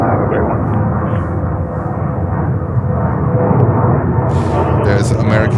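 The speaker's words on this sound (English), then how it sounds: "American 3085, runway 22 right, let's take off." An American Airlines Airbus A321 jet taking off from runway 22 right at JFK airport, New York: a loud, continuous engine roar, close and constant throughout, with a radio voice speaking over it.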